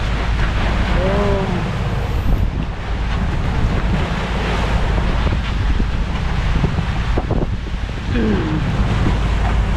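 Choppy sea waves off Siargao, coming from several directions at once, crash and churn continuously with heavy wind buffeting the microphone and the low rumble of a boat on rough water throughout.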